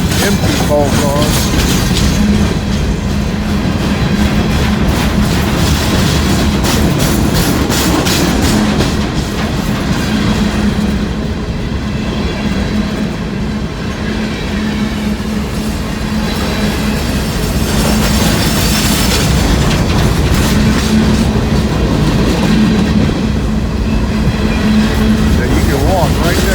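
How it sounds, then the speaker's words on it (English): A freight train of empty coal cars passes on street-running tracks in La Grange, Kentucky, on a dreary day, with loud, continuous rolling clatter and rattling of the cars up close throughout. "Empty coal cars."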